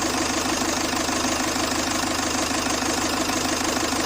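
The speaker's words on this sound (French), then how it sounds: "le moteur a l'air fluide" A Citroën C8 2.2 HDI 128 hp diesel engine runs at a steady idle, close and loud, with an even, rapid diesel clatter and constant drone throughout.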